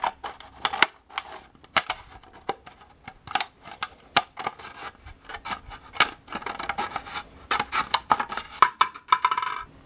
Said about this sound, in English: you can start to work your way around the cup with the scissor